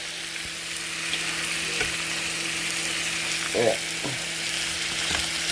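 Chicken pieces fry in a pan with a steady, close sizzle and a few light scrapes and stirs as they are moved around; a brief word is spoken once over the frying.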